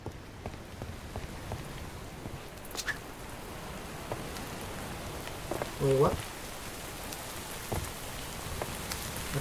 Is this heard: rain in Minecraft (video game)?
yes